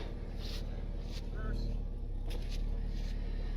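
A tracked Jeep's engine runs steadily in reverse while the vehicle is stuck, a low continuous rumble close by with a slight rise in intensity partway through.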